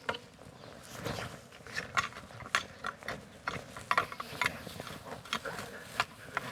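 Garden fork firming compost and soil around a newly planted climbing rose, with soft scraping and crunching stabs at close range, faint and irregular, with a few brief gritty clicks of stone.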